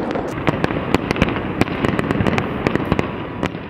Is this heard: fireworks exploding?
yes